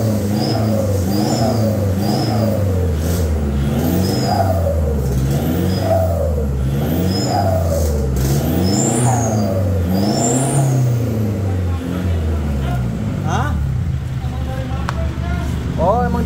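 A VNT turbo diesel engine with an aftermarket whistling exhaust revs up and down repeatedly at a workshop, with a rising turbo whistle and a loud, raspy exhaust tone, close by and sustained.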